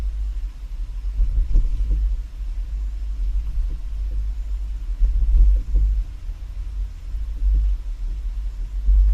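A 2022 car carrying a Swagman XTC2 Tilt two-bike rack rolls over full speed bumps, giving a deep, steady low rumble with periodic heavier thumps and faint rattles as the car rises and drops, no talking.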